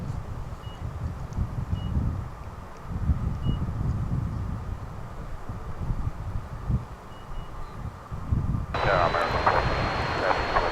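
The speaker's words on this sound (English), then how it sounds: "That's American Flight 1820, just arriving from Ontario, California, in Airbus A321" An Airbus A321 airliner, American Flight 1820 from Ontario, California, arriving at DFW International Airport, gives a steady low engine rumble throughout. Faint beeps come and go, and a brighter hiss joins near the end.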